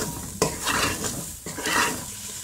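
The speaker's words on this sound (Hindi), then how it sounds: "अब इसे अच्छी तरह से मिला देंगे।" Spoon stirring salt into cauliflower cooking in milk gravy in a pressure cooker pot, several scraping strokes against the metal with soft clinks, close and steady, no talking.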